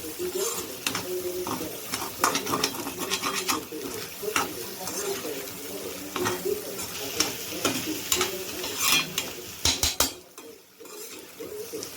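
Scrambled eggs (egg podimas) are stirred in a pan, repeated close scraping and clinks of a utensil over a soft sizzle, falling quiet near the end.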